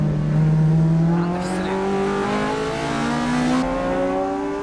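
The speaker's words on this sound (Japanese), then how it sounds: "アキラ NSX 余裕で土屋86をパス" A Honda NSX race car passes a Toyota AE86 at Tsukuba Circuit, its high-revving naturally aspirated engine screaming loud and close, pitch climbing steadily through the gears, another engine droning beneath it.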